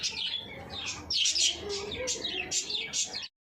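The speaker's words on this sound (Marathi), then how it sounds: "इकडे आय थिंक छोट्या चिक्सचा आवाज येतोय" Baby bird chicks in nest boxes chirp in rapid, high, insistent bursts, close and clear, several calling together before stopping abruptly.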